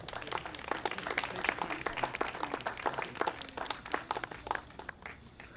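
An audience at a Memorial Day event applauds Congresswoman Maxine Waters, with dense, sustained clapping from many hands that thins slightly toward the end.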